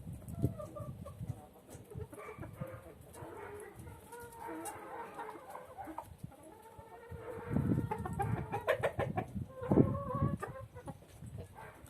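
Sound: chickens clucking

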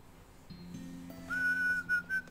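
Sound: whistling in video game Broken Sword 5

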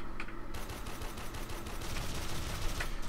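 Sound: gunfire shooting at the player in the video game Warframe

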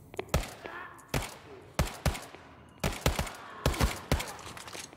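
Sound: magnum gunfire in a video game

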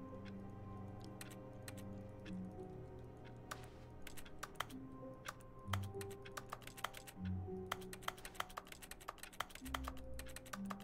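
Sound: person imitating computer keyboard typing sounds with mouth

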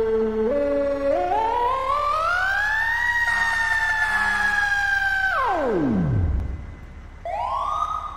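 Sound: fire engine Q siren in video game

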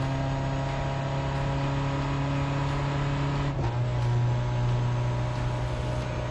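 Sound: Gr.2 race car accelerating at Suzuka, GT Sport video game

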